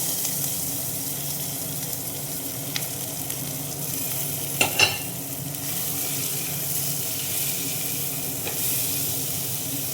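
Egg chowmein frying in a pan on a Kolkata street-style stove just after pre-fried vegetables are tipped in, a steady close sizzle running throughout with a couple of brief clanks near the middle.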